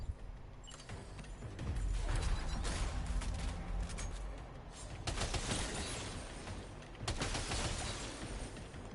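Sniper rifle shots during VR training in Death Stranding 2, three heavy blasts with lingering rumble spaced a few seconds apart, over mechanical clatter and creaks.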